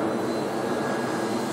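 Several model airplanes flying in formation over Gerritson Beach give a steady, loud, continuous engine drone throughout, with no talking.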